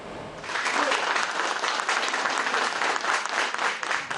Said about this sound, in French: C'est avec ces applaudissements des journalistes algériens présents ici à Douala que Jamel Belmadi a débuté son point de presse